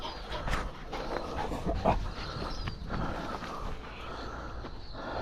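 Dogs playing fetch outdoors at a vineyard, with panting, scuffling paws and movement in a noisy, steady wash of sound and no talking.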